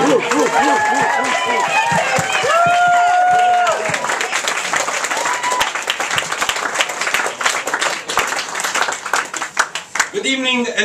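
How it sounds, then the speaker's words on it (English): A stand-up comedy audience at a London comedy club breaks into lively applause with cheers and whoops in the first seconds, then settles into steady clapping that fades toward the end. "should we just clap in that case?"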